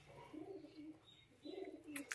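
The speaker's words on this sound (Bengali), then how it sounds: "এটা চিনি কালদম পায়রা।" Kaldom pigeon sitting on its eggs gives two soft, throaty coo phrases, close and quiet, with a couple of faint high chirps at the very end and no talking.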